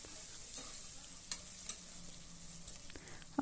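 Onions frying in a pan while being stirred, a steady close sizzle with a few soft clicks of the spoon against the pan, no voices.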